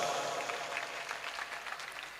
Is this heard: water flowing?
no